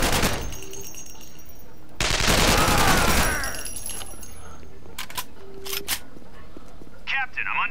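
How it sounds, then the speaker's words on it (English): Bursts of video game gunfire crackle amid noisy action, with a dense burst of shots in the middle, scattered sharp pops later, and talk underneath. "We hear gunshots, you alright?"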